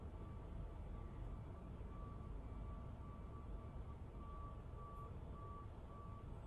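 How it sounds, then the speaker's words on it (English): A delivery truck's reversing alarm beeps in a steady, evenly spaced rhythm at moderate distance, over a constant low rumble of engine and street background. "Must be a delivery truck."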